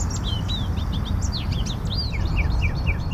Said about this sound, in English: Birds chirping is always the first sign of warmer weather.